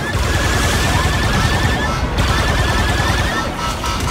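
Continuous blaster gunfire in Star Wars Outlaws, rapid energy-weapon shots fired at enemies forming a dense, steady barrage with no pauses across the whole stretch.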